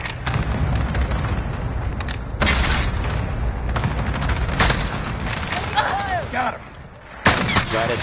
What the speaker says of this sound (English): Enemy cluster strike is coming